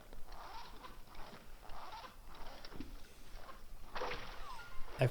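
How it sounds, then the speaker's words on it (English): A zipper set into a wall in Super Mario Odyssey gets pulled open in a few quick rasping strokes, a short burst coming at the end. "That wall had a zipper on it."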